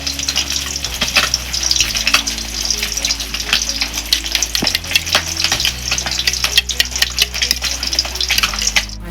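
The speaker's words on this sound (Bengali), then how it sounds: "ভেজে নেবো মাছগুলোকে।" Pieces of katla fish fry in hot oil in a pan, making a loud, steady crackling sizzle with bursts of spitting and a low hum underneath.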